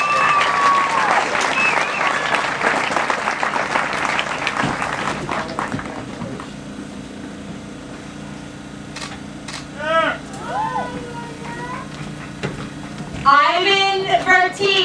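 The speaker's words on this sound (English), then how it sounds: "applause." A 2021 high school commencement crowd breaks into loud applause that fades over several seconds, leaving a quieter hall where a voice then speaks.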